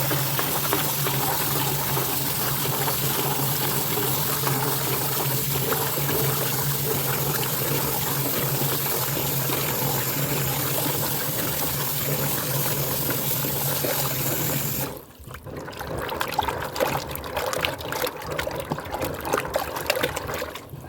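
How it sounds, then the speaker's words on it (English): Water runs steadily while rinsing on a farm, trickling down a drain in a continuous wash, then thins out into a sparser, uneven dribble near the end. "Hope I don't plug up the drain too bad. Okay. One more good rinse."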